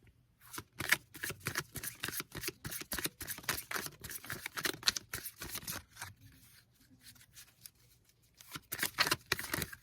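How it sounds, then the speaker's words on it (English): Oracle cards shuffled by hand give a steady run of crisp riffling and soft flicking, close and quiet, with a short lull before the shuffling picks up again at the end. "we're going to get a few more oracle cards for you"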